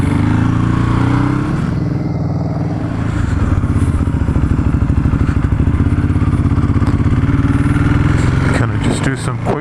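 A Ducati Hypermotard motorcycle on a test ride in Concord, California, runs close and loud, with a throbbing, pulsing engine note that rises as it pulls through short runs, with a rider talking over it.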